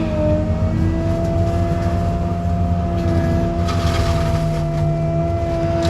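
A loud, steady engine drone from a CAT 309 excavator running a Bush Master brush cutter, with strong low harmonics and a constant mechanical whine, running continuously without pause.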